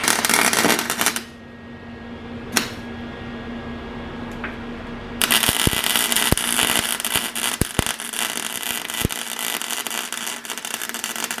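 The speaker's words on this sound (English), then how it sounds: "now that that's out, we can do a little bit more welding" Welding an engine mount plate in a car's engine bay gives loud crackling arc bursts, stopping briefly and then resuming with sharp pops and spatter, without talk.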